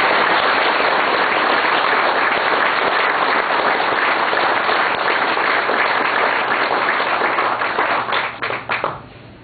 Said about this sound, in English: Now let's give them a round of applause, ladies and gentlemen.